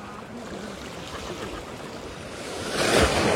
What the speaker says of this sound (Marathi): अरे जोरात लाट आली रे एकदम